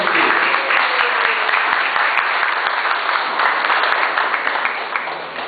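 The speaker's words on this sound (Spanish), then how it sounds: "A todos ellos, démosles un fuerte aplauso para que sigan en esta actividad." Steady applause from an audience at a talk on public security in Lima Norte, dense continuous clapping filling the room, holding level and then tapering slightly at the end, with no voices over it.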